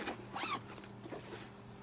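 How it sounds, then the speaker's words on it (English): A zipper pulled closed along a fabric craft storage bag with a supporting frame around its top, a single continuous rasping run lasting under two seconds, close and fairly quiet with no talking. "And then it zips completely closed."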